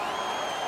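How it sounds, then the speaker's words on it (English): An arena crowd in the NHL 17 hockey video game roars and cheers in a continuous, dense wash of noise. "The crowd is all over them right now."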